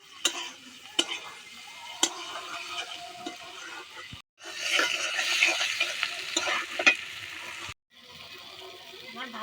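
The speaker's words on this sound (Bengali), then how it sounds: "ভাজার ভিতরে এই বাগদা চিংড়িগুলো দিয়ে দেব।" Tiger prawns fry in a pan, with crackling sizzle, spatula scrapes and sharp clinks against the pan, broken by two brief silences; the sizzle swells louder in the middle stretch.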